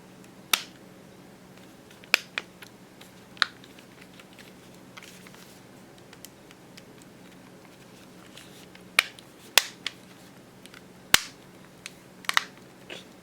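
Plastic back shell clips of a GPD Win 2 handheld PC snap into place one after another, a series of sharp, isolated clicks at irregular intervals over a quiet background.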